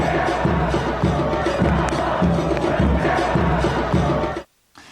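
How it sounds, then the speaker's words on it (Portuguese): Santos fans at Vila Belmiro chant in rhythmic unison during a match against São Paulo, a dense, loud crowd roar with pulsing repeated phrases that cuts off abruptly at the end. "E a torcida também deixou seu recado."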